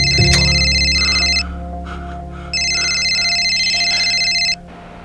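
A telephone rings loudly and close in two long electronic trilling bursts separated by a pause, over a low steady hum.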